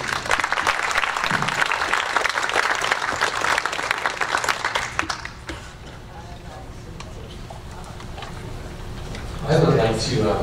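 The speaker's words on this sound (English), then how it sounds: "Let's have a round of applause for Lucy." Applause from an audience at a Hemet city community meeting on El Niño preparation, a dense burst of clapping for about five seconds that then fades to room murmur, with a voice speaking briefly near the end.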